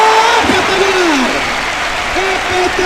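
A crowd applauds at a bullring during a recortes contest in Valencia's Plaza de Toros, a dense, steady wash of clapping throughout, with a voice carrying over it.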